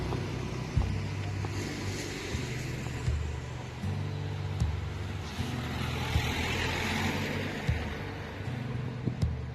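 A car passes by in a seaside town street, a steady low engine rumble holding at moderate loudness throughout, with no voices.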